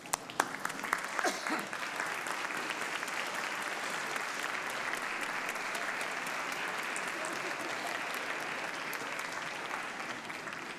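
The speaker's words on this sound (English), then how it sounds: "give them a round of applause for all of the support they've given you" A graduation ceremony audience at the University of Manchester breaks into sustained, even applause, a dense wash of many hands clapping at moderate loudness that holds for about ten seconds without fading.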